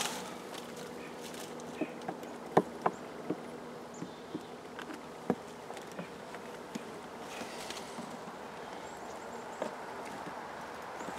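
Honey bees from a robbed, destroyed colony buzz steadily around an opened hive, with a continuous insect drone and scattered sharp knocks and taps of frames being handled nearby.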